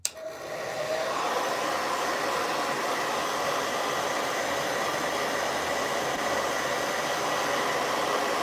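A hair dryer blows steadily while drying hair at the scalp, a loud, close, continuous airy roar that switches on at the start and holds an even level throughout without any talking.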